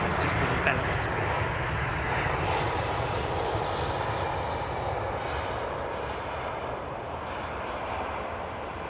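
Airbus A380 jet landing on runway 27R, a loud steady roar of engines and rushing air that fills the whole stretch, with voices talking faintly underneath.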